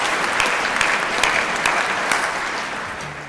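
Conference audience applauding, a dense, steady wash of many hands clapping throughout, loud and sustained with no voices on top.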